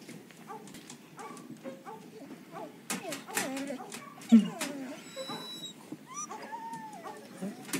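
Dogs at an animal shelter, several short barks and whines scattered through the clip under people talking, with one louder bark near the middle.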